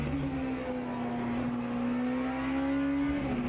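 A hypercar engine holds a steady, high, droning note through Qatar's sector 3 in a sim racing game, heard close and continuous with a faint rising pitch and slight tire noise.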